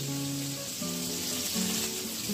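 Two pieces of tilapia sizzle steadily in hot oil over medium-low heat, a close, continuous crackling fry with a few faint clinks and no talk.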